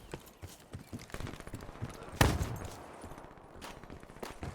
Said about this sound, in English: I hear a shotgun and I'm fucking scared.